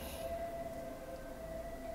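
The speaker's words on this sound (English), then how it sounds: "Should I stop for that siren?" A siren sounds outside, a faint, distant, steady tone held across two seconds with no voices over it.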